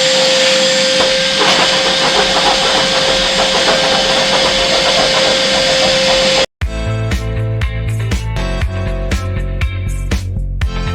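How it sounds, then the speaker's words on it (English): A vacuum cleaner sucks insulation out of school bus sidewalls, giving a loud, steady whine with a tonal hum that runs for about six seconds before cutting off abruptly. "Got all of the insulation vacuumed out of the sidewalls."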